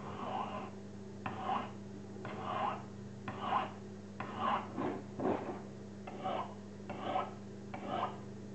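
Knife blade drawn across Lansky turnbox sharpening rods, about nine evenly spaced rasping strokes roughly a second apart, close and moderately loud over a low steady hum, no talk.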